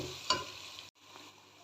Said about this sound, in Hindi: प्याज को मैं 1 मिनट के लिए फ्राई करूँगी, जब तक ये पिंक से वाइट नहीं हो जाता।